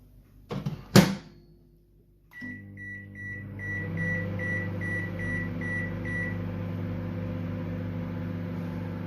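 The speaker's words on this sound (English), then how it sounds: "Now we will bake this in the microwave for 10 minutes." A microwave oven bakes cheese corn poha after a door thump and a button press. Its steady low hum and whir run on, with a string of evenly spaced electronic beeps partway through.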